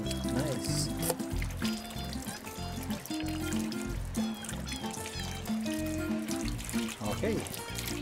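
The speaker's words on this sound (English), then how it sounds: "Let's wash our hands properly." Hands are washed under running water from a tap, a soft steady trickle and splash heard faintly beneath background music and talk.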